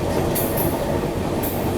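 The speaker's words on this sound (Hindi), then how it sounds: "ये वाली जो आप लोग ट्रेन जाते हुए देख रहे हैं ये निकल गई" Train running past on Indian rails on the New Delhi to Banaras route, a loud, steady near rumble of rolling wheels and carriages with brief high screeches from the wheels.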